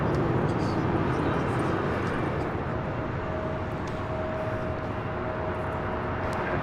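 A Boeing 737 MAX 8 jet arriving at LAX from St. Louis gives a steady, moderately loud broadband roar that holds evenly throughout, with a faint high engine whine in the background and no talking.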